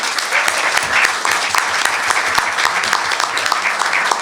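An audience at a Palestinian rights event applauds a panel, a dense, loud, sustained wash of many hands clapping together with a few sharper claps standing out near the listener.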